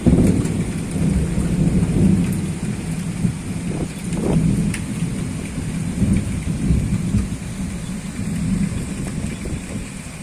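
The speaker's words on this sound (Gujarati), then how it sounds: "જે ગાજવીજ સાથે જે વરસાદ જે વરસી રહ્યો છે" Heavy rain pours down during a thunderstorm in Jetpur, Rajkot district, with a dense, constant roar of rainfall and deep rumbles of thunder rolling through it.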